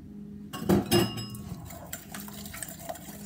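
Brownie batter with eggs added gets stirred in a bowl, a spoon clinking against the sides in a couple of louder knocks early on, then softer scraping and wet mixing close by, with no talking.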